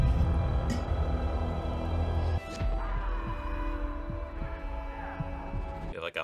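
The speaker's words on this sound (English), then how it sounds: "You have like a heartbeat sound effect during the violence." A slow, deep heartbeat sound effect from the war film Hacksaw Ridge throbs in regular low thumps beneath a dense rumbling battle soundtrack that drops away midway, leaving the pulses more exposed.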